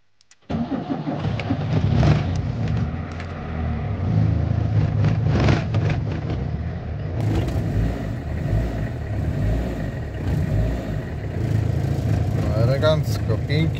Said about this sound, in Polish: Kampuś chodzi, trochę dymi, bo wiadomo, musi się rozgrzać.